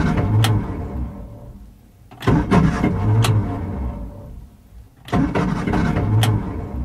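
A broken-down car's engine cranks repeatedly without catching, three separate bursts of starter grinding separated by quiet pauses, close and fairly loud, with no talking.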